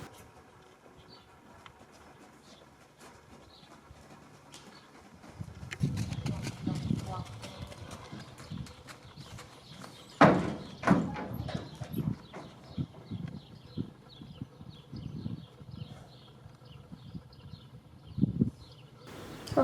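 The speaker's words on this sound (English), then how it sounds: "Her horse loaded up with no problem," A youth competitor's horse at a trail-and-handling class clops its hooves on a hollow trailer floor while loading, irregular thuds growing louder midway, with a person talking over them.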